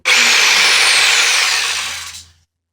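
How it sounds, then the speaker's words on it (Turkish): A power jigsaw buzzes loudly and steadily as it cuts through tree wood, then winds down and stops after about two seconds. "Degobaj ağaçları e, destereden daha hızlı kesmemizi sağlar. E, yukarı aşağı doğru çalışarak keser."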